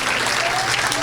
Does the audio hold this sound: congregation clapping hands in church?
yes